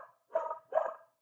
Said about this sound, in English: Excuse my crazy dog.